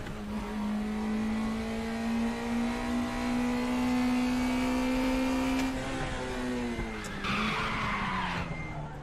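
A small race car, the NSG, in the RaceRoom sim racing game holds a steady, droning engine note under load, then dips as it brakes for a corner and rises again, with brief tire noise.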